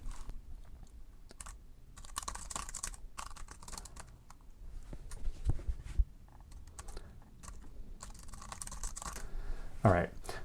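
Computer keyboard typing while writing code comes as faint, uneven bursts of key clicks at close range, in a quiet room with brief murmured speech.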